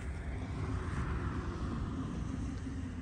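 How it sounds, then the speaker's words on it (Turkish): An airplane drones overhead above a rural village, a steady, low, broad rumble that holds even throughout at moderate loudness with no speech. "Uçak geç kaldı."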